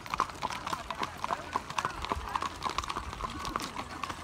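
Horses' hooves clip-clopping steadily alongside a wagon train ride, many overlapping hoofbeats in a continuous rhythm, close and prominent, with faint voices mixed in.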